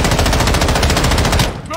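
Loud, close automatic gunfire in the shooter game Call of Duty: Modern Warfare II, a rapid continuous burst of evenly spaced shots that cuts off just before the end.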